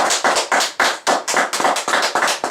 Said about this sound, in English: Y'all gotta give her a round of applause.